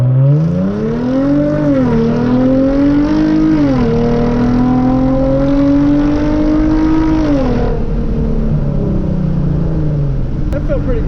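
A Hyundai Genesis Coupe launches hard from a standstill with traction control on, its engine note climbing loud and close through the revs, then settling into a steady, sustained drone.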